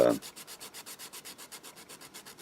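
Sandpaper rubbed by hand in a steady, fast back-and-forth rhythm, about eight strokes per second, close and moderately quiet, alone after a brief bump at the start.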